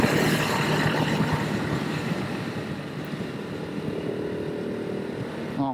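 A 2018 KTM 690 Enduro R motorcycle under way, a loud continuous rumbling engine and wind roar that eases slightly mid-ride as gears change, with no talk.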